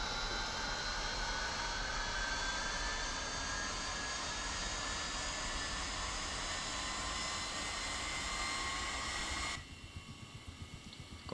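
Turbine engine of a Ka-50 Black Shark helicopter spooling up in a flight simulator game, a steady loud whine with a slowly rising high tone that cuts off abruptly near the end.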